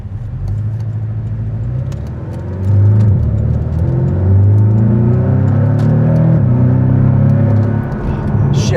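A 2019 Porsche 718 Cayman with a PDK gearbox accelerates hard from inside the cabin, its engine droning and rising in pitch, dropping briefly at quick gearshifts, loud and steady throughout.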